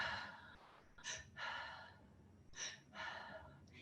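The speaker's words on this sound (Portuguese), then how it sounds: "essa respiração eu vou fazer só pela boca, é a respiração 1-4. Inspira em 1 tempo e solta em 4 tempos" Breathing through the mouth in a slow pattern of a short inhale and a longer exhale, repeated twice, soft and close with no speech.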